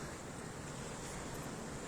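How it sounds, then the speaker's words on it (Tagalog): Waves washing on a seaside shore in the early morning, a steady wash of surf with wind noise across the microphone, continuous and moderately loud with no talking. "Andito ako sa tabing dagat."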